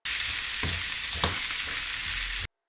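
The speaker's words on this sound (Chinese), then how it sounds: "最后加点白芝麻、葱白，不停翻炒" Diced spicy chicken stir-fries in a wok with white sesame and scallion whites, a dense, loud crackling sizzle broken by a couple of sharp spatula tosses.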